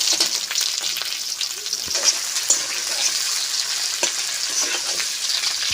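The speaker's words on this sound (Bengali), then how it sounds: "আমি সুন্দর করে লালচে লালচে করে ভেজে দেবো" Spice paste and mutton fry in a pan with a steady, bright sizzle, broken by occasional crackles and stirring scrapes, heard up close with no voices.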